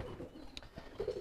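A homing pigeon gives a soft, low coo, quiet and fairly close, in a short burst over faint background noise.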